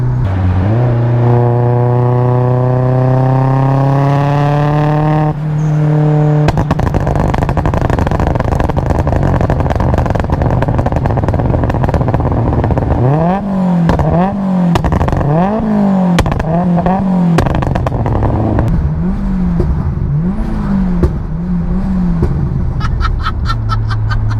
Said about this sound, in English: if we sort of put your foot down, take it to about 5k or something, and then let it accelerate